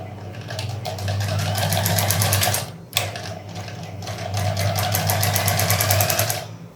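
A sewing machine stitches a neckline in rapid, even bursts of mechanical clatter, close and loud. It runs for a few seconds, pauses briefly, then starts up again.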